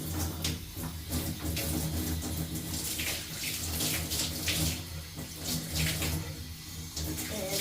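Water pours steadily from a tap into a shower or basin, a loud continuous splashing rush with a faint voice underneath.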